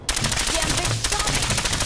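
Rapid automatic gunfire in the post-apocalyptic shooter Fallout 4, Nuka-World expansion, a fast loud stream of shots with no pauses, close and continuous, with brief voice fragments mixed in.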